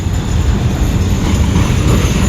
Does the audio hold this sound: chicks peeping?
no